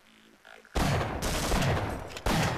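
Shotgun blasts in Half-Life Source, a quieter lead-in followed by loud, booming discharges with long rumbling tails, one heavy shot near the start and another near the end.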